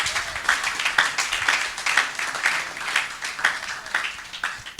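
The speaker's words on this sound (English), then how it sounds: "Another round of applause for Ayodeji" An audience applauds steadily for about five seconds at a panel talk on food production trends and innovations, a dense, even patter of many hands clapping with no pauses.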